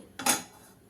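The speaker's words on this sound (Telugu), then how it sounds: "స్టవ్ ఆన్ చేసుకుని ఒక కడాయి పెట్టేసుకుని" A metal kadai set down on a gas stove: one brief clattering metallic clank with a short ring-out, close and clear, no voices.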